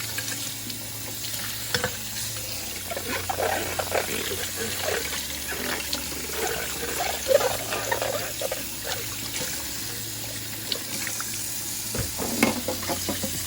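Pet water fountain parts scrubbed with soap and a scrubby under running water at a sink, a steady wash of splashing and rubbing with occasional clunks, close and continuous.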